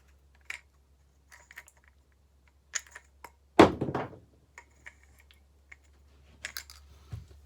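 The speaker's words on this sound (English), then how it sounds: "I'm gonna pull these out and turn them around." Flashlight batteries pulled out and slid back in, heard as scattered small clicks and taps with one louder clattering knock in the middle, close by and otherwise quiet apart from a faint steady hum.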